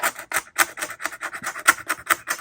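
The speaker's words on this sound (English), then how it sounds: "I'm just going to come with this little plastic razor blade." A small plastic razor blade scrapes residue off a vintage Fibes acrylic drum shell in quick rhythmic strokes, about a dozen short rasping passes, close and clear with no voices.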